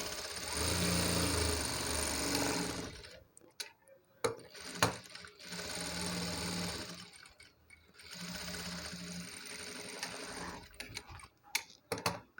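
A sewing machine runs stitching a 4.5-inch cloth strip for a hanging dori, in two steady loud bursts separated by a pause filled with scattered clicks and handling noises.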